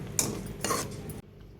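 A spoon scrapes and clinks against a pan while curd and spice masala are stirred for spicy pota kaleji, two or three short metallic strokes close by, then quiet.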